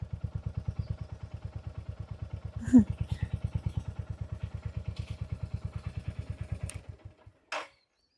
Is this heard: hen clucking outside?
no